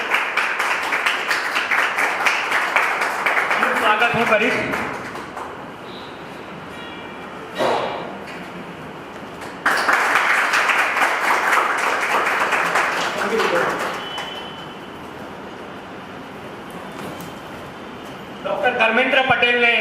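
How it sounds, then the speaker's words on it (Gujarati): An audience at a Gujarati literary event at the Gujarat Sahitya Akademi in Gandhinagar bursts into loud, dense applause in repeated waves, with a speaker talking over the gaps between bursts. "એટલે જોરદાર તાળીઓ દીપેશભાઈ માટે."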